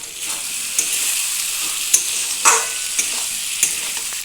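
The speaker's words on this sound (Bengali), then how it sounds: "দিয়ে একটু ভালো করে নেড়ে দেব।" Pointed gourd, potato and prawn curry being stirred in a pan, a close continuous sizzle broken by several sharp spatula scrapes and taps, no voices.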